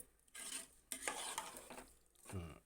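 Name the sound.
stirring salt and chili powder into vegetable pieces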